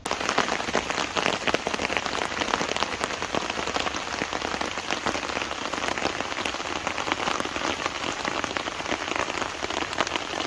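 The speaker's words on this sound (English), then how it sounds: "and it's seen some proper rain." Rain falls steadily on a Vango Nevis 100 backpacking tent, a dense, continuous patter of drops drumming on the fabric with no pauses and no voices.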